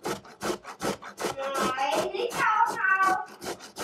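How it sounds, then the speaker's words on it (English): A raw beetroot rubbed over a grater in quick repeated strokes, about a dozen rasping scrapes in a steady rhythm, close and clear, while someone talks over the later strokes. "So I'll just start grating over here."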